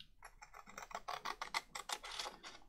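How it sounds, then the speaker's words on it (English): Scissors cutting card along a score line for paper crafting, a quick series of close, crisp snipping clicks in a regular rhythm. "So cut along the score line, down to where you meet the other score line"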